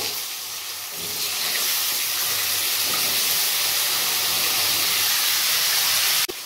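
Diced potatoes frying in oil with cardamom and fennel seed, a steady loud hiss and sizzle running continuously with no talk.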